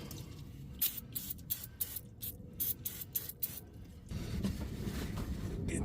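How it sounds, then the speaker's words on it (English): Brake cleaner sprayed onto an aluminum engine part during a Ford Fusion oil filter housing job: a run of short, sharp hissing bursts, then one long steady spray, close and fairly loud, with no talking. "I'll hit it with some brake clean."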